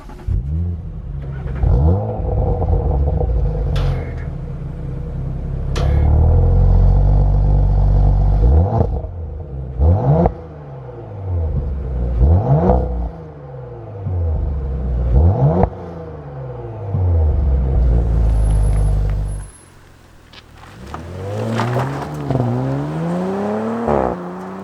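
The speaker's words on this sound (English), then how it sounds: "start the car up so you can hear what it sounds like idle" Audi RS 4 engine turning over and settling into a steady idle, with repeated rev swells rising and falling over a deep rumble, close and loud, the note briefly cutting out near the end before revving again.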